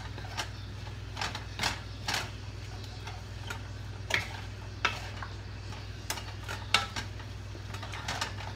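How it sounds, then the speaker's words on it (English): Bell pepper and zucchini stirred in a pan for paleo lasagna: a steady low hum under sparse, irregular clicks and scrapes of a utensil against the pan, close and fairly quiet, with no voices. "So you just want to just mix that in there pretty well."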